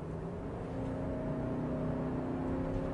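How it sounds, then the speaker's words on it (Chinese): An Infiniti QX80 V8 SUV accelerates on the road, its engine note a low, steady hum that builds gradually, heard from inside the cabin without talk. "真是喜欢高转速啊，蹭楞了一下就奔5000去了啊"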